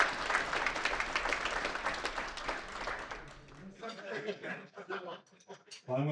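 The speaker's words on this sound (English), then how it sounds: "Y'all give him a big round of applause." An audience at a celebration dinner applauds with dense, sustained clapping that fades after a few seconds, and then a person begins speaking.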